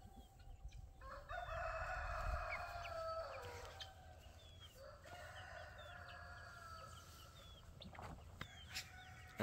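Hens and a rooster on a homestead: a long drawn-out crow near the start with steady clucking and chatter, continuing at moderate distance over soft outdoor background, with no voices.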